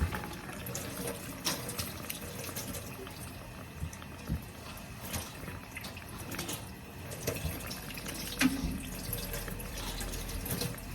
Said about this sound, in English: make sure we wash our hands really well